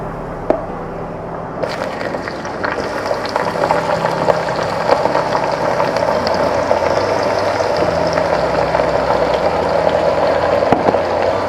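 Chopped onions dropped into hot spiced oil for a Punjabi mutton curry, a sudden burst of dense, steady sizzling that builds and holds loud and close, with a few light clicks and no talking.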